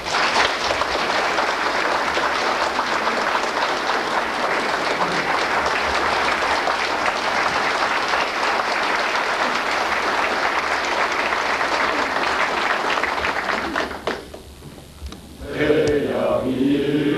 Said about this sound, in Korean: 전체 박수로.